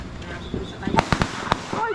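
New Year's Eve fireworks crack and pop in a quick cluster of sharp bangs at middle distance, heard under excited people chatting outdoors.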